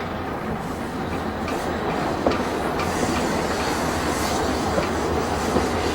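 A White Pass & Yukon narrow gauge train runs along the track, with a loud continuous rumble of wheels and occasional clicks and metallic squeals from the rails, heard close and without voices.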